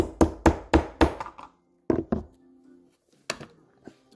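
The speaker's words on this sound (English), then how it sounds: "I'm just going to go ahead and give it some love taps" Light hammer taps driving out the safety pin of a Stoeger: four quick, evenly spaced knocks, a pause, then a couple of taps and one more sharp tap, each crisp and close with brief ringing.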